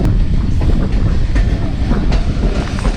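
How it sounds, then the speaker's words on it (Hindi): A freight train passing close by near Karor on the Multan to Darya Khan line, a loud, continuous rumble and rattle of wagons over the rails with gusts of wind. "यहाँ से सामान की गाड़ी निकल रही है।"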